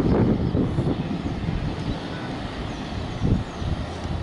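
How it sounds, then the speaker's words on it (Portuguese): Large Brazilian Army helicopter passing low near Sorocaba airport before landing, a steady loud low rumble with wind buffeting the microphone throughout. "Olha só, desfilando aí o helicóptero. Não sei qual modelo é esse, mas ele é grandalhão. Passou bem baixinho aqui próximo de nós."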